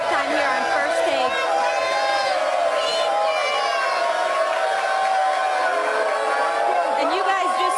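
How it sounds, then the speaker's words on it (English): A live studio audience at an ESPN First Take show in Oakland whoops and cheers loudly and continuously, with shouting voices and crowd chatter layered throughout. "This crowd is so hype."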